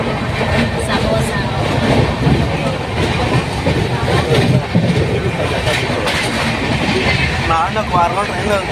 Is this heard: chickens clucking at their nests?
no